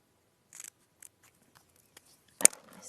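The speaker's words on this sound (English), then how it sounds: "we're just going to follow this flag shape just with my scissors" Scissors cutting out a flag shape in a paper craft: a few faint, sparse snips spaced apart, then one louder, crisp cut near the end, with no talking.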